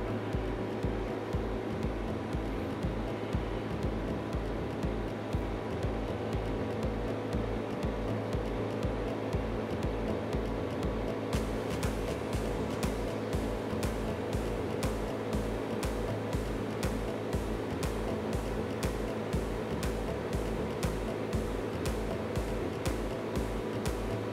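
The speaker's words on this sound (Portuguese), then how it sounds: "Fechamos a tampa e acionamos o vácuo." A screen-printing exposure unit's vacuum pump runs as a steady mechanical drone with a rapid, regular pulsing throb, close and unbroken, with no talk.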